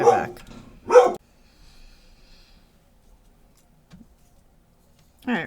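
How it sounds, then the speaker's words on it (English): A dog gives two loud, close barks at the start and another at the end, separated by near silence. "Excuse the dog barking."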